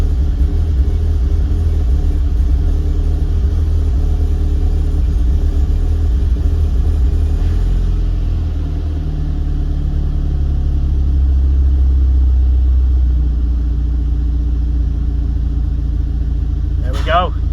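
A 750 BHP Cupra engine runs steadily on its first start, a loud continuous low rumble at idle with slight swells in revs, close by and without a break.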